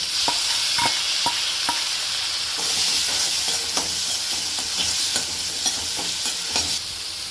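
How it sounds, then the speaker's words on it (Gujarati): Chopped onions and tomatoes sizzle in a hot pan for dal, with steady frying hiss and repeated spoon stirring scrapes and taps throughout, close and moderately loud, no talk. "હવે લઈશું ડુંગળી અને ટામેટાં મેં ચોપરમાં ચોપ કરીને લીધા છે."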